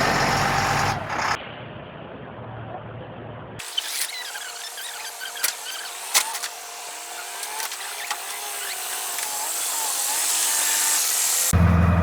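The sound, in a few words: hydraulic loader working on cabin construction site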